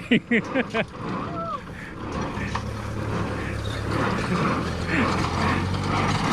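A Massey 124 hay baler runs while pressing straw. It opens with a few loud, rhythmic mechanical clunks, then settles into a steady, close grinding rumble of gears and moving parts.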